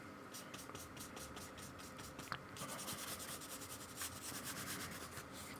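A fingertip rubs and smooths paint across a painting's surface in soft, rhythmic strokes, close and faint, with a steady scratchy texture.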